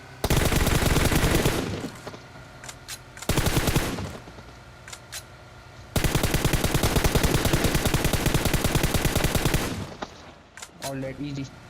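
Sustained bursts of DP-28 light machine gun fire in a battle royale shooter, long rapid strings of shots separated by short pauses, close and loud, with a few scattered single shots from elsewhere.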